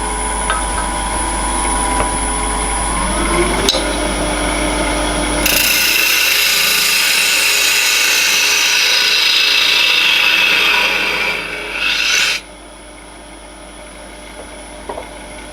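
A power tool grinds steadily against the end of a steel bar, flattening it, for several seconds with a bright, high, rasping tone, then cuts off, leaving a low machine hum.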